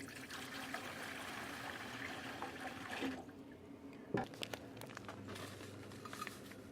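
Water for a chicken wing brine pours and trickles into a container, a continuous liquid stream that breaks off midway, followed by splashes and crinkling handling sounds.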